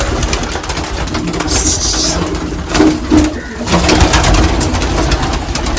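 Haifa pigeons cooing in a loft, low soft coos rising now and then over a constant droning hum that fills the background.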